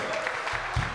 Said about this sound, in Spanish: Den esas palmas al que vive.